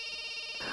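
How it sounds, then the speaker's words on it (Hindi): A telephone rings with a steady electronic tone that carries evenly and grows slightly louder near the end. "अरे बार बार फोन बज रहा है, उठाते क्यों नहीं हो?"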